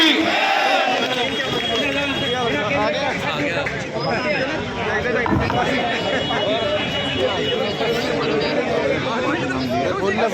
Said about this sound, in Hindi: एक बार जोरदार ताली के साथ स्वागत कीजिए